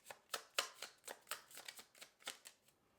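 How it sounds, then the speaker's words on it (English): A deck of tarot cards being shuffled, quiet, close riffling and tapping in quick irregular bursts, about a dozen soft snaps in a row with no talking. "I'm going to shuffle one more time."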